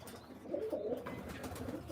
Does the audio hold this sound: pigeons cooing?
yes